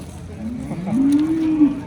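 A single cow gives a long, low moo at a cattle market, close and loud, rising slightly and then tailing off, with faint background noise.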